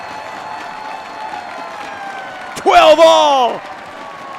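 Crowd at a professional ultimate frisbee game, Atlanta Hustle versus Minnesota Wind Chill, bursting into a short cheer with whoops and applause for about a second, heard beneath a play-by-play commentator's voice.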